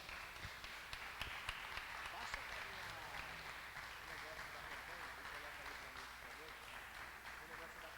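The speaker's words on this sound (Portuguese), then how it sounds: "Vamos aplaudir o Senhor Jesus bem forte." A church congregation applauds in praise during a worship service. The clapping is faint and distant, a steady broadband patter with a few sharper claps near the start, mixed with some background voices.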